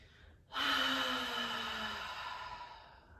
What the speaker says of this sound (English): Open mouth, exhale. Let it all go.